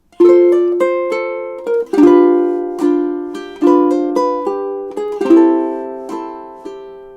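A ukulele strums two measures of a song, bright plucked chords in a bouncy rhythm with triplets, close, clean and solo, a little over seven seconds.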